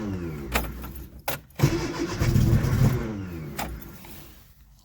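A rebuilt Austin A-series car engine cranks in short bursts, then catches and runs roughly with uneven revving before faltering, heard close up with no talking.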